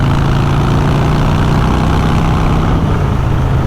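A Harley-Davidson Fat Bob motorcycle engine running while ridden, a loud, steady, deep low rumble that holds evenly throughout, close up, with no voices.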